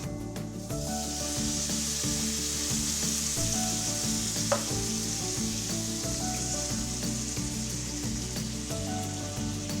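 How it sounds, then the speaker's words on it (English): Herbs slightly frying in oil with garlic for a spirali arrabbiata sauce give off a steady, close sizzle that runs unbroken throughout, with one small click midway. "we're just going to slightly fry these herbs in this oil and in the garlic"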